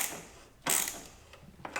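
Ratchet tightening a hose clamp on a Lexus 2.0L turbo four-cylinder resonator: a short burst of clicking pawl strokes, then a few quieter, sparse clicks, close and alone.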